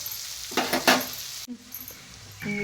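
Sliced onions fry in a pan, a soft sizzle broken by a couple of sharp spatula scrapes and light utensil clinks, fairly close and moderately quiet.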